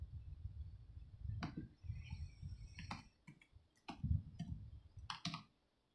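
Irregular bursts of computer keyboard typing, clicks coming in short clusters, sounding close over a low background murmur, with bird chirps faintly in the background.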